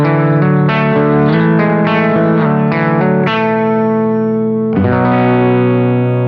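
Electric guitar through a Klon overdrive pedal gives a warm, mildly driven tone as a run of sustained notes and chords rings out, loud and close, with a fresh chord struck near the end.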